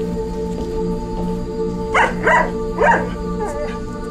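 Three short dog barks from a pet dog in The Sims 4, close and moderately loud, spaced about half a second apart over a steady game background hum.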